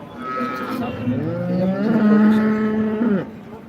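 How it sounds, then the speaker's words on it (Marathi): A prized cow at a cattle market in Modnimb lets out one long, loud, close moo that rises and sustains for a few seconds before cutting off, with faint background noise. "ही एक सगळ्यात टॉपची गाय आहे"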